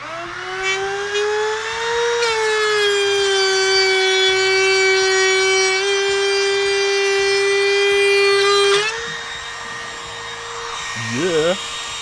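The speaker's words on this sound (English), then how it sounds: "just clamp that bit of trim to a bit of wood so I can just finish it off with the router" A router trims a clamped piece of wood trim on a homemade square drop camper tailgate. The high, steady whine runs loud and close for about nine seconds, dips, then winds down with a falling pitch.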